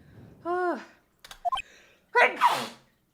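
Two sneezes, one at the start and a louder, harsher one near the end, with a short gasp between them, close and clear during a lawyer's playthrough of the Phoenix Wright: Ace Attorney game.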